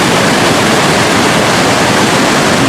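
Gljúfrabúi waterfall in Iceland roars loudly and continuously, a dense, steady broadband rush of falling water heard up close with no voices over it.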